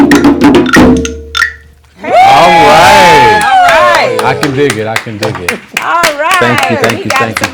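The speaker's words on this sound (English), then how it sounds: "applause from Agnes even" Live music performance with a loud audience reacting: whoops, shouts and sharp claps close by, with excited voices and cheering overlapping throughout.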